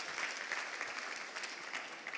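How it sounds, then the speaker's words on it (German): Faint, steady applause from an awards-show audience, a continuous even patter of many hands heard at a distance with no talking. "Applaus, tolle Idee."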